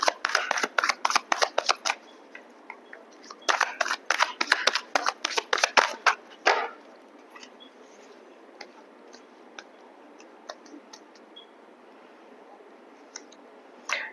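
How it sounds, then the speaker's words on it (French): A deck of cards for a card reading is shuffled in quick riffling bursts, with dense flapping rattles in two long runs, then scattered faint card clicks and taps trail off alone. "Je vais prendre les cartes moi-même."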